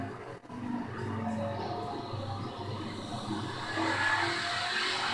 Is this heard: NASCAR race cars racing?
yes